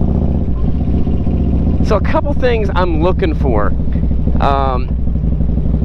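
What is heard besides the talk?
Harley Davidson FLHX motorcycle engine running during test drive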